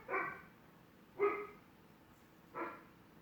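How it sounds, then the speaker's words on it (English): A dog barks three times in a house, the spaced, moderately distant woofs standing out against quiet background. "Sorry if you hear my dog too. He's barking."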